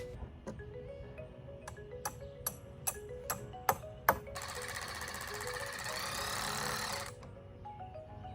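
Cordless power drill driving screws back into the top beam of an old wooden kids' swing set, a string of short close whirring bursts at a steady pace, then one longer sustained high-pitched run of the motor.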